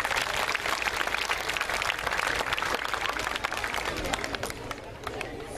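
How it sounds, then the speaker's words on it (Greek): Dense, loud applause fills a hall at a karate demonstration, with murmuring crowd chatter mixed in, steady throughout and easing slightly near the end. "Ένα μεγάλο χειροκρότημα για εσάς."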